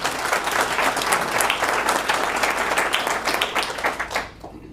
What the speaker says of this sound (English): please give Barry a round of applause.